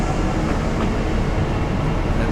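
A train rumbling along the rails in Train Simulator Classic, a steady, loud, broadband roar of running gear and wheels with no distinct clicks, heard continuously without speech.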